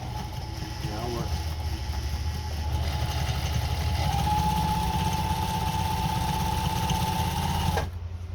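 A Pfaff 130 sewing machine sews its widest zigzag stitch, a steady close mechanical whir with rapid needle clatter running for several seconds before it stops abruptly near the end.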